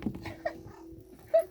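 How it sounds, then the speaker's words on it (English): A pet cat gives two short, close meows about a second apart, the second louder and higher, in a quiet indoor room with a low steady hum beneath. "Okay, that's my cat."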